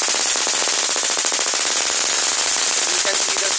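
A high-voltage spark from a 400kV converter powered by a lithium-ion battery crackles continuously, loud and close, a rapid buzzing stream of sharp snaps with no pauses.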